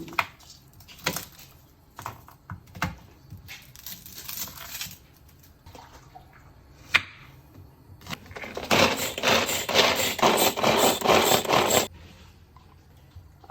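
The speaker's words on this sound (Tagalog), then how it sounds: "Kaya gumagamit ako nito, ang tawag dito, grinder ba dyan?" A manual kitchen grinder works ingredients finely for Filipino chicken spaghetti, with scattered sharp clacks and knocks followed by a sustained, dense rattling churn for several seconds, close and fairly loud, with no speech.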